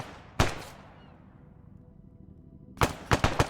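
Gunfire in Arma 3 at an oil rig facility: a single sharp shot with a long fading echo, then a quick cluster of three or four shots, fairly close and loud, with no talking.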